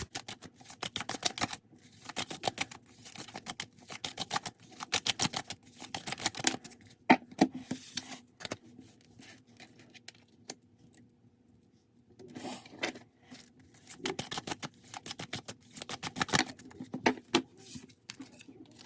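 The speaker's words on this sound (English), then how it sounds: "So we're going to continue shuffling" Tarot cards shuffled in repeated bursts of rapid riffling and patter, loud then pausing, with quieter rubbing between bursts and a gap of near silence midway.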